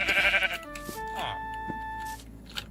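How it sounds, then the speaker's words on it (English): A short Minecraft sheep bleat sounds close and clear amid game tones, with a person talking around it. "I need another sheep."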